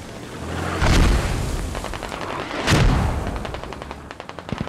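Mortar strike explosions in a video game battle, two heavy booming blasts about two seconds apart with a dense crackle of distant gunfire rattling between and after them.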